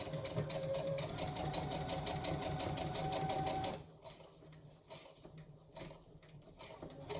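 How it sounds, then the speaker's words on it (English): A sewing machine stitches a seam on a fabric protective mask, running in a fast continuous whir for about four seconds, then slowing to shorter, quieter bursts of stitches, close up. "I'm going to forward and back stitch to secure the stitching at the beginning and end"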